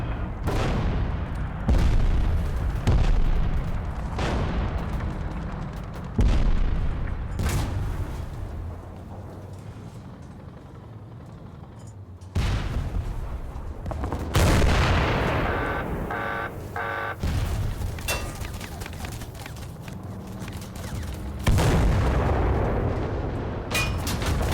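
Repeated booming gunfire and cannon blasts from War Thunder tank combat, with Call of Duty vehicles in play, fire in irregular loud bursts over a constant engine and battle rumble, some shots close and sharp, others heavier and echoing, with no one talking.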